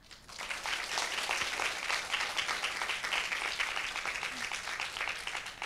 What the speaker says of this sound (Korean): 여러분들의 뜨거운 박수 감사하고요